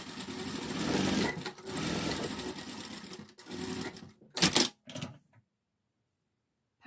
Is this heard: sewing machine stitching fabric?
yes